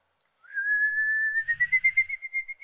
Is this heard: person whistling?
yes